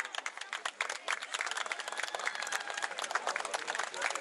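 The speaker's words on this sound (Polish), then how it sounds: "Poproszę o wielkie brawa." An outdoor crowd at a knight's horse-riding show during a fair claps, a thick, continuous patter of many hands sounding somewhat distant and even.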